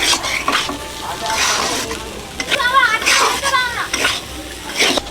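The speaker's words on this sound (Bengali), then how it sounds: "আজকে এরকম আলু ভাজা হচ্ছে" Potatoes sizzle and crackle steadily in a hot pan while a utensil stirs and scrapes, with a voice speaking briefly over the cooking.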